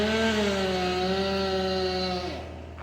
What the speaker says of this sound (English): They're doing tree removal in a nearby property here